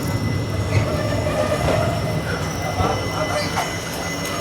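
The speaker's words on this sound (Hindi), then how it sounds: "रात के 12:07 पर हमारी ट्रेन पहुंची है" Rajya Rani Express arriving at Manwat Road station at night, with a continuous rumble of rolling cars, squealing wheels and scattered clanks as the train moves through.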